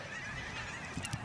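Geese honking outdoors, a couple of short honks near the end of the clip over a faint background hiss, fairly quiet and distant.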